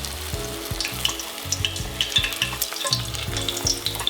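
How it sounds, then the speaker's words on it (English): A tempura-battered zucchini blossom fries in a pot of hot oil, giving a steady close crackling sizzle with dense bubbling pops throughout and no talking. "You just want to hold it in the oil for a few seconds and then let it go."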